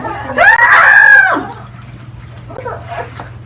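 A voice lets out a loud, drawn-out screaming imitation lasting about a second, then fades into quieter breathy sounds.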